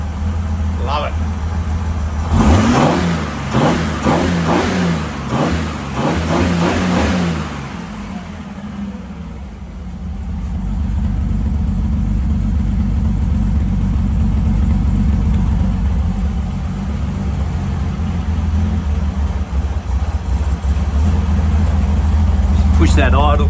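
A Holden Grey Motor engine running close by, rising and falling through several quick revs in the first seconds, then settling to a steady, loud low idle that continues alone.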